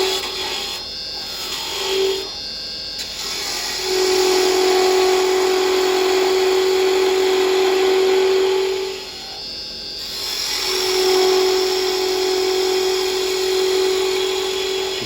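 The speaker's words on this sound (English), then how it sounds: "I'm going over to my round chisel, start getting the roof done." On a woodturning lathe, a round carbide chisel cuts a small wooden bird house roof, giving a steady loud whirring scrape that rises and falls as the tool engages and lifts off the spinning wood.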